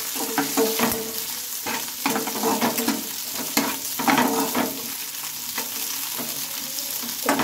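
Onions, capsicum and onion petals fry in a pan for a bread fry while a spatula stirs them, a steady sizzle broken by repeated scraping strokes and knocks, close and fairly loud, no talking.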